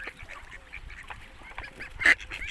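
Ducks squabbling over food at feeding time, a string of harsh honking quacks from several birds close by, with one louder squawk bursting out near the end.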